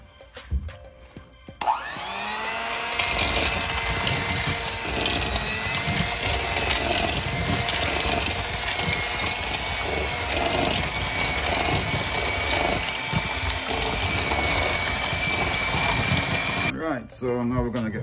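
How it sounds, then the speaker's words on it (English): An electric stand mixer starts and runs on its low setting while it beats a batter for a black rum Christmas cake, giving a steady, close mechanical whir that holds for most of the stretch and then cuts off. "we're gonna go ahead and plug our mixer in. It's mixing time."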